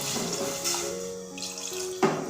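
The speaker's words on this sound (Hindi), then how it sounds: "इसमें तकरीबन 1 कप के करीब हम पानी डालेंगे" Roughly a cup of water poured into a cooking pot for a Pakistani-style liver korma: a close, steady splashing stream with a shifting ringing tone, ending in a brief sharper splash.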